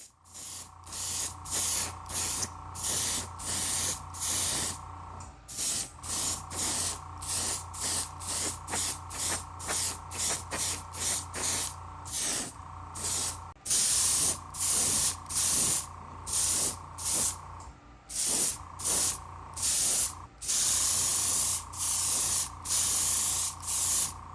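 Rapid bursts of spray paint from a can coating miniature car interior parts for a Honda Mugen CRX model in primer and semi-gloss black, dozens of short close hisses in irregular rhythm, loud and alone.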